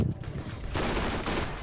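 Bursts of automatic gunfire from the Borderlands video game, a dense rattling fusillade that swells midway and continues with a voice briefly present.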